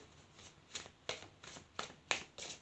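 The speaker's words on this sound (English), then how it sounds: "I'm going to give it a really good shuffle." Tarot cards being shuffled by hand, a series of crisp riffling bursts and soft slaps in a regular rhythm, close and quiet with no speech.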